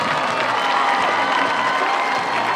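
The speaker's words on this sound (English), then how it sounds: "Let's give all these ladies a round of applause." Crowd applauding and cheering at a high school football homecoming ceremony, a steady dense wash of clapping and scattered whoops filling a large outdoor stadium throughout.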